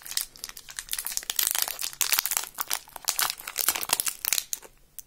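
Thick plastic toy package for a Bob Snail figure being opened by hand, close loud crinkling and tearing in rapid irregular bursts that swell and fade over several seconds.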